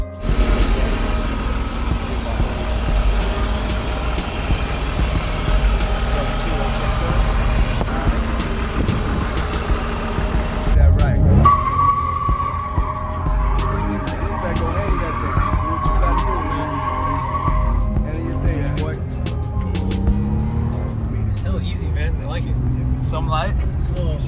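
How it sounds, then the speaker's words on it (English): An S50-swapped BMW E30 drifting on its first outing, engine revving hard with tires skidding and squealing through a long slide, loud and close, with a person talking over the noise. "First time drifting yeah, first time."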